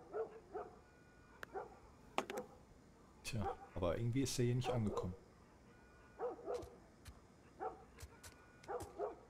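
A dog barks and yips in short bursts in The Last of Us video game, with a longer whining stretch in the middle, heard alongside someone speaking German.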